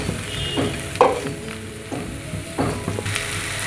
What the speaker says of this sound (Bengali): পেঁয়াজটা ভাজা হয়ে গেছে এর মধ্যে আমি সবজিটা অ্যাড করে দেব